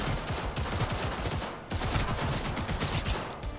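Rapid automatic gunfire in the video game Cyberpunk 2077, a loud, sustained fusillade of close shots in quick rhythmic bursts with a short pause midway.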